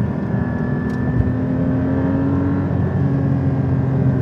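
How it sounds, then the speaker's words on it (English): Flat-six engine of a Porsche 718 Cayman GT4 running steadily with a low, dense drone and a sustained higher whine, close and constant throughout with no talking. "It is a clean, modern, efficient flat six engine."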